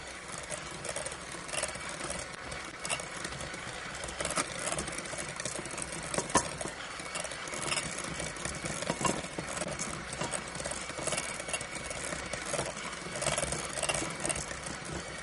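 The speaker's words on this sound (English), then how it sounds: "I'm going to use my electric mixer just to get all the lumps and bumps out of the cream cheese." An electric mixer whirs steadily and continuously while beating cream cheese smooth in a home kitchen, a dense mid-level motor drone with faint rattling.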